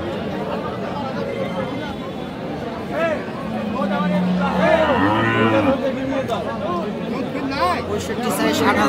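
Cows moo repeatedly at a busy rural cattle market in Aftabganj where milking cows with calves are sold, their calls rising over a steady hubbub of crowd chatter and nearby talk.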